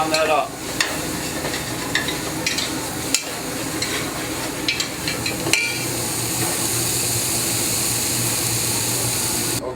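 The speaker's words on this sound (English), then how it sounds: "A little bit of salt pork, about a half a pound of bacon. So we render that down a little bit and brown that up." Salt pork and half a pound of bacon render and brown in a pan with a steady, close sizzle, broken by occasional scraping and stirring clinks of a utensil against the pan.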